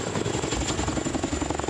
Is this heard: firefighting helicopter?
yes